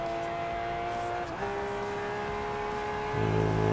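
Steady car engine drone while driving in Forza Horizon 2, holding pitch with a brief gear change, then a louder lower-pitched growl near the end, close and constant.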